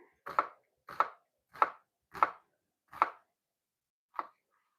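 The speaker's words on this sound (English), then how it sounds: "I'm going to do my onions nice and long as well and skinnier" A knife cuts onion into thin, long slices on a board, six crisp separate strokes in an even rhythm, close and fairly quiet against near silence.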